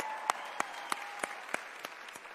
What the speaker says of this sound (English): One big round of applause for everyone that has come out and done an amazing job